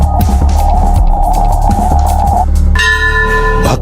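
Temple bells ring at the Patal Bhuvaneshwar cave shrine, with a steady ringing tone and repeated metallic strikes that give way to a brighter, sustained bell chime, over a constant low hum and no talk.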